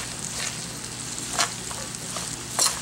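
Okra (ladies finger) with coconut and chilli powder fries in a pan, giving a steady sizzle broken by two sharp scraping strokes of a spoon stirring the mixture.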